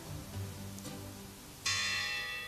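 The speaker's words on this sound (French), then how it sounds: "Ce sont elles, cloches du sémaphore, qui gardaient bien les marins et leurs navires du danger de se perdre à jamais dans la brume." The semaphore bells of the port of Le Havre ring faintly in the distance, then a single clear strike lands close and loud, its bright tone sustaining and slowly fading.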